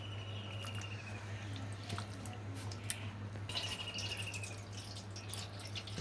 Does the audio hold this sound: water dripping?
yes